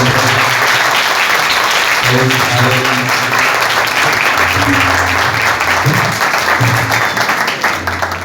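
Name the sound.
audience giving loud applause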